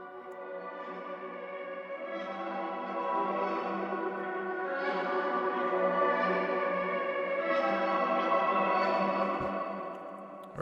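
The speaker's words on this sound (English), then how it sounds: "that's where this reverb comes in. Here's what it sounds like. It's just the reverse of the melody." A reversed melody forms a swelling, washed-out pad with notes that bloom and fade backward, drenched in lingering reverb and echo, steady and spacious with no voices.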